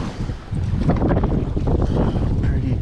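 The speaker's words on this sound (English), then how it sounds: "It's just this wind. I didn't know it was gonna be this windy." Strong wind buffets the microphone while bass fishing from a boat on a cold late-January day, a loud continuous rumbling roar with gusts that swell after a brief lull.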